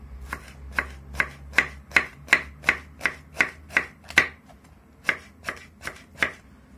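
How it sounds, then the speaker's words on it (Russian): A knife chops a hot chili pepper finely on a cutting board, giving about fifteen crisp, evenly spaced taps close up with a brief pause near the end. "Порежем перчик остренький. Перчик нарежем тоже помелче."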